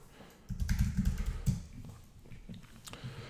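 Keys tap on a computer keyboard in a quick cluster, then scattered softer clicks follow, close by against a faint background hum.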